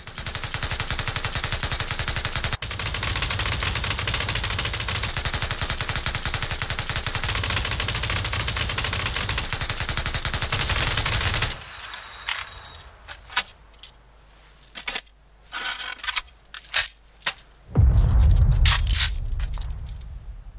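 MG3 and M249 machine guns fire in the PUBG video game: a long, loud, unbroken stream of rapid automatic fire gives way to shorter bursts separated by gaps, then a final heavy burst.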